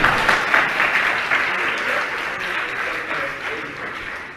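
Steady, dense audience clapping at a Jain spiritual question-and-answer discourse with Praman Sagar Ji Maharaj rolls on throughout and eases slightly toward the end.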